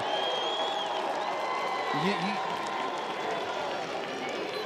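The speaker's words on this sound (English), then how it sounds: "And this crowd is feeding off this." Steady crowd noise from spectators at a Duke vs. North Carolina men's college lacrosse game, a continuous roar of cheering voices throughout under an announcer's talk.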